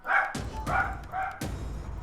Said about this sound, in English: there's dogs start barking.